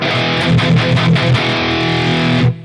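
A distorted electric guitar through a Vintage 30 speaker cabinet on an Axe-Fx III MKII plays a steady chord riff with a few rhythmic accents, loud and close, then cuts off abruptly near the end.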